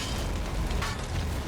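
An explosion in the video game God of War, set off by a thrown explosive object, fills the moment as a dense, loud, sustained rumbling blast with no voices over it.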